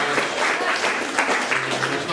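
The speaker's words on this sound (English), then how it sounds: "Guys, clap it up for new, happy, healthy relationships." A comedy audience at a live stand-up show in a San Diego art gallery claps steadily for a couple of seconds, a full crowd of applause with a few voices mixed in.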